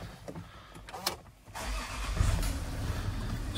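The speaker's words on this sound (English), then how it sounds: "I'll just start the car up." A Land Rover Discovery 4 3.0 HSE engine cranks and starts after a few clicks and a door sound, then settles into a steady, fairly loud idle heard from inside the car.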